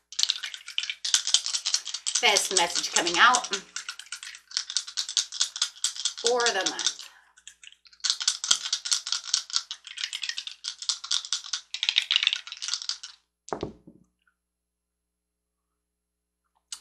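Dice rattle and clatter in several bursts of rolling, close and crisp, with someone speaking briefly between the rolls before a final knock and silence.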